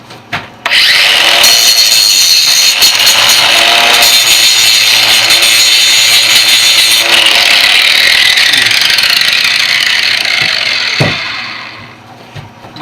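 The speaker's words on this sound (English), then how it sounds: "Using the bench grinder works really good." A bench grinder grinds a half-axe tomahawk head with a loud, steady, high-pitched abrasive whine that runs unbroken for about ten seconds before spinning down.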